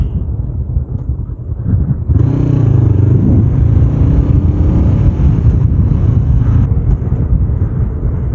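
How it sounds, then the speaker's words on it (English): A Honda CBR 500R motorcycle is ridden in 17°F cold. Its engine drones loud and steady at close range, rising as it pulls away, with wind roar underneath and no talk. "this guy's out here riding his goddamn motorcycle"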